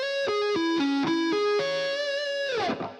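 Distorted electric guitar plays a short sweep-picking run, a quick series of descending and rising picked notes that ends on a held note which bends down and fades, loud and close with no talking.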